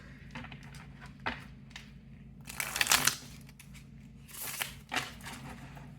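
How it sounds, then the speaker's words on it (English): A deck of tarot cards is shuffled again by hand: scattered soft card taps, then a dense rustling flurry in the middle and a few more close, quiet riffles. "Let me shuffle one more time."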